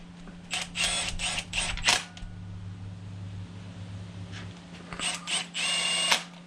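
Milwaukee power tool in no over-torque mode slipping against resistance while working on a 2001 Pontiac Firebird Trans Am 408ci stroker engine swap, giving rapid ratcheting bursts in several groups, close and fairly loud over a steady background hum.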